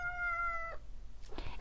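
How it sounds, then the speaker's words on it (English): A single clear cat meow rises and holds briefly, then gives way to faint rustling noise. "I'm going to be meowing all the time"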